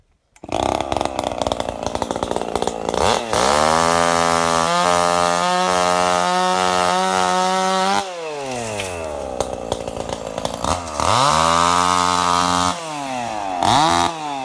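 A chainsaw runs loud and close on a village farm in Kastamonu, cutting branches that scratch a tractor's paint, revving up and down through several cuts with steady high idle between them.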